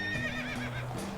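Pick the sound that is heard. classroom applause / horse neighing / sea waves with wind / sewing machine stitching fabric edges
horse neighing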